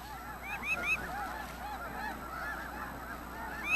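Snow geese honk repeatedly in overlapping calls, a flock chattering steadily over a windy outdoor hiss in the snowy Arctic.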